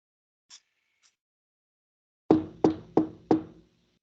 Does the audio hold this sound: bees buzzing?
no